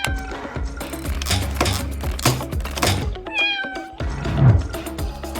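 A stuck kitten meows repeatedly and insistently, several clear drawn-out cries up close, with light thumps and rustling in between.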